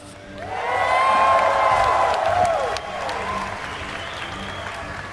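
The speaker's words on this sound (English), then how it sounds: "Ladies and gentlemen, make some noise for StarTale Life" Loud crowd applause and cheering at a StarCraft II grand final at MLG Dallas swell quickly, then settle into steady clapping with scattered whoops.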